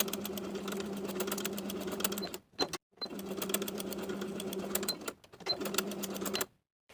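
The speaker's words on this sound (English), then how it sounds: "we're going to baste the facing to the outer edges of the armhole" A sewing machine stitches in fast rhythmic bursts while basting a knit facing to the armhole edges of a T-shirt, three runs separated by brief pauses, close and clear with no talking.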